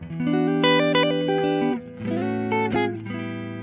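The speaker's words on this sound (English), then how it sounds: "this is how the Kemper sounds without the preamp" Clean electric guitar chords through a Kemper amp without preamp ring out with slight reverb, a sustained strummed phrase, a brief pause, then another chord sequence, close and fairly loud.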